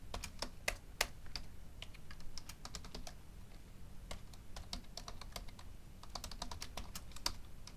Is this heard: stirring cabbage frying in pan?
no